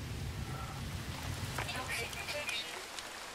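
Rain in the No Man's Sky video game hisses steadily as a broad wash of noise, with a voice talking over it before the sound thins and fades slightly toward the end.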